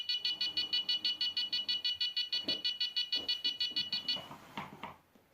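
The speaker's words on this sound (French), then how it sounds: "Donc vous pouvez entendre le bip." A rapid, steady series of high electronic beeps from an Arduino buzzer triggered by an ultrasonic sensor, about four per second, that stops abruptly, followed by faint shuffling.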